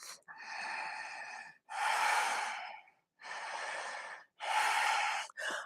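Slow, deep breaths drawn during a yoga downward facing dog hold: four long, even inhales and exhales, each lasting over a second, close and breathy, alternating in a calm rhythm with no talk.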